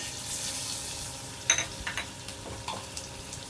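Finely chopped onion frying in a couple of spoons of oil in a pan, a steady soft sizzle with a few sharper crackles and stirring scrapes partway through, close and alone without voices.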